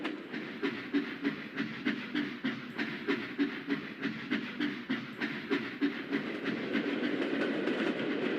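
Railway coaches rolling along the rails at a junction in a steady, rhythmic clickety-clack of wheels over rail joints, fairly close and continuous, thinning into a smoother rumble near the end, with no voices.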